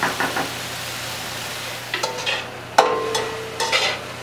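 Shrimp broth is stirred in a pot, producing a few separate scraping and clinking strokes against the metal over a quiet background, with no one talking.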